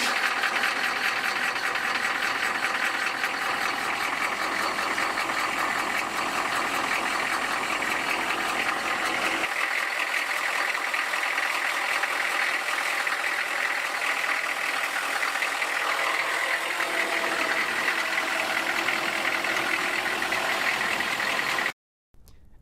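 A HMMWV engine idles steadily after an oil change, its close, constant diesel rumble holding an even rhythm, shifting slightly in tone partway through before cutting off abruptly near the end.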